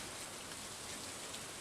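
Rain in the Stardew Valley video game, a soft, even hiss of falling drops continuing unbroken and faint in the background.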